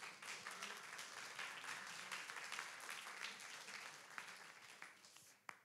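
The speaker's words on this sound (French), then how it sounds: "Vous pouvez l'applaudir." Audience applause at the final of a French eloquence contest, steady dense clapping from a hall crowd, moderately distant, with a few sharper claps standing out near the end.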